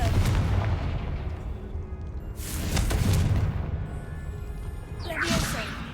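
Confringo blasting spells from Hogwarts Legacy erupt as booming, whooshing explosions, three heavy blasts spaced a couple of seconds apart over a rumbling background, with crackling debris after the last one.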